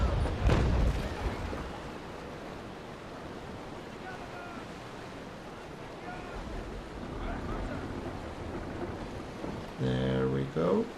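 Broadside of naval cannons firing from a ship in the Naval Action game, heavy booming blasts over a constant roar of sea and wind, with a burst of loud reports near the end.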